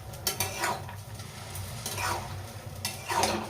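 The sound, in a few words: onion tempering sizzling in pan with ridge gourd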